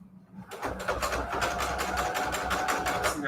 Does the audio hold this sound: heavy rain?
no